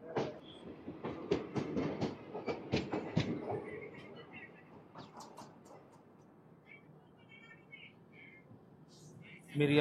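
Express train 17221 pulls out of Miryalaguda station, with a rhythmic run of wheel clicks and clatter in the first four seconds that fades into a softer rolling rumble, faint chirps and a sharp bump at the end.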